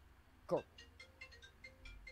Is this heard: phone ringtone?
yes